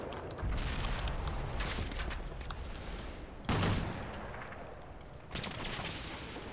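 Heavy machine gun fire in a military video game, a dense, continuous rattle of rapid shots with a louder burst midway, heard at a distance as a rumbling, noisy barrage without talking.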